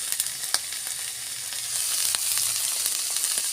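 Ginger paste fries and sizzles in a pan with cumin paste, a steady close hiss broken by light scraping stirs, no voices.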